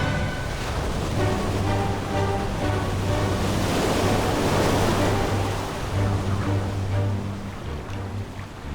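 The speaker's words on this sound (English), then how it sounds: "Violent winds and waves tear it apart." Violent storm wind howls over crashing ocean waves at sea, a dense, loud roar of surf and gusts that swells through the middle and eases slightly toward the end, with a low steady hum beneath.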